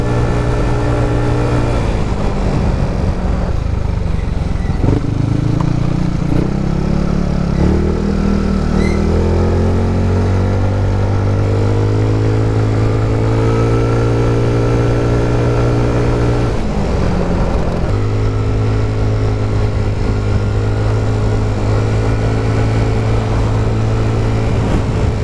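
Honda motorcycles such as the XRM and Wave ride along a mountain road in the Philippines. Engines drone steadily and loudly throughout, with pitch shifts as they rev and change speed, and no voices.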